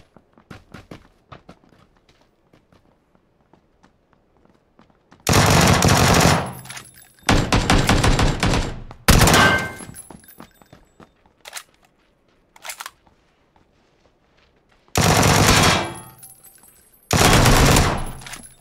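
Short, loud bursts of automatic fire from a 25-round Vector submachine gun in a squad-based shooter game, separated by quiet gaps, with a few brief single shots between the longer bursts.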